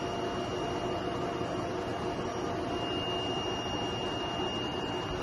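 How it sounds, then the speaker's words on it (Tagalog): A DTF printer runs a head-cleaning cycle, giving a steady, even whir and hiss with faint high whining tones that hold throughout, close by and alone. "Head clean."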